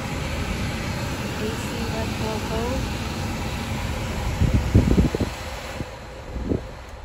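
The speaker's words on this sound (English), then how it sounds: "All fan functions are operational." Ventilation fan running inside a Kia Forte EX, a steady broadband whoosh of blown air with a few thumps and clicks of controls near the end.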